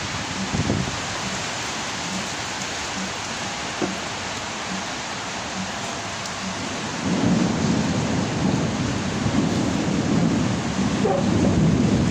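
Steady rain falls outdoors with heavy broadband hiss, and low thunder rumbles build and swell in the second half of the clip, loud and continuous with no voices.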